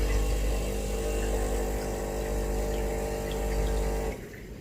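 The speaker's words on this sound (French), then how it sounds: "Ça, c'est le bruit de la cafetière." An automatic coffee machine in a home kitchen runs its self-cleaning cycle, giving a steady close pumping and watery gurgle that holds for about four seconds and then drops off sharply.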